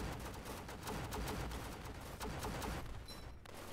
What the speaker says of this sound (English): Even they're using machine guns, which are lasers.